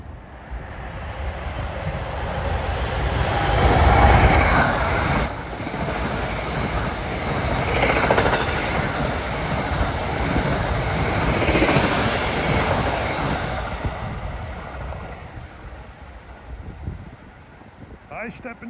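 A fast train rushes through Rahway station, a loud, sustained rumble and rush that swells and holds for most of the passage before easing off near the end, with a brief tone sounding early on.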